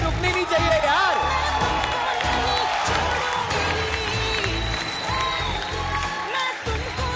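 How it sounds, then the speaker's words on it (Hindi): A talent show audience claps and cheers after a record-breaking performance, a steady roar of applause with whoops, while people talk over it throughout. "जोरदार तालियां रुकनी नहीं चाहिए यार"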